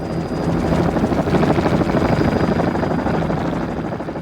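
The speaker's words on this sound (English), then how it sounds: "the helicopter rotor blades started up" A helicopter's rotor blades spin up before a wildlife-capture team sets out to catch wolves in the western U.S., giving a loud, steady, rapid chopping throb that fills the whole stretch without pause and with no voices.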